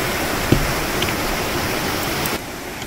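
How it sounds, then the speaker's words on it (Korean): A mountain stream in Seoraksan's Twelve Fairies Pools valley rushes over rocks and small waterfalls, giving a steady, close broadband wash of flowing water. "계곡 물이 바위 위를 흐르면서 만들어진 여러 개의 폭포와 탕들이 연달아 나타나는데"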